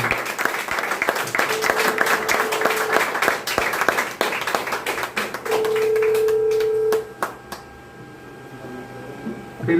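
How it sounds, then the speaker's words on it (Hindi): Loud applause for two seniors at a team celebration, dense clapping from a crowd that thins into scattered claps, with a steady electronic tone sounding in the background partway through. "एक बार जोरदार तालियां हमारे दोनों सीनियर्स के लिए"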